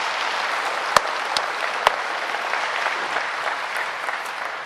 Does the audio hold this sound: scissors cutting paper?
no